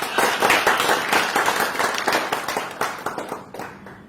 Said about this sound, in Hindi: एक बार अपनी तालियों में उन्हें अप्रिशिएट करें